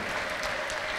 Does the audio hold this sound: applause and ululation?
yes